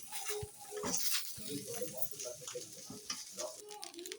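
Tomato rice with salt stirred from the bottom of a pan, giving a soft continuous sizzle with repeated scraping strokes of a spoon, heard close throughout.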